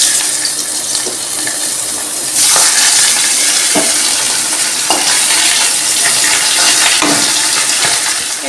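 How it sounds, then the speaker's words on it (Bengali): Fish rubbed with salt and turmeric fries in oil in a home kitchen, a loud close sizzle that swells midway, with intermittent spatula knocks and scrapes and a watery hiss. "এই যে প্রথমে লবণ হলুদ দিয়ে মাছটাকে ভেজে নিচ্ছি।"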